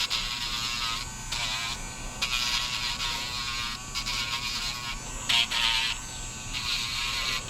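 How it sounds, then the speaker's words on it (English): Electric nail grinder working on a dog's nails with a freshly changed grinding head, a close, steady high buzz with short pauses and slight changes in pitch as it touches the nail. "getting that grinder in there"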